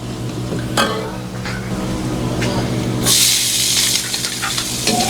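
Chopped white onion tipped into a pan of garlic already frying to brown, setting off a sudden loud, sustained sizzle that jumps up over the steady background crackle, with a few scraping stirs before it.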